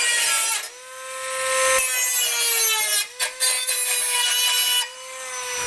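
Tin snips cut out a trimmed metal heat shield under a 2020 Toyota Corolla during trailer hitch installation, a loud close scraping, rasping metal screech with a sustained ringing tone and brief breaks between cuts.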